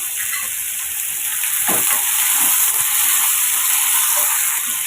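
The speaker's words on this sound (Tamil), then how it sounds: "இப்போ பூசணிக்காய்க்கு தேவையான உப்பு சேர்த்து வதக்கி விட்டுக்கலாம்" Pumpkin pieces sauté with salt in a hot pan, giving a loud, constant hissing sizzle with a faint stir or scrape now and then, heard close and without voices.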